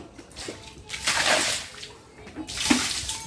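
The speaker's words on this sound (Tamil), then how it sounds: "இப்போ தண்ணி ஊற்றி கழுவணும்." Water poured out to wash a swept floor in a cow shed, heard as two close splashing bursts with a quieter gap between them.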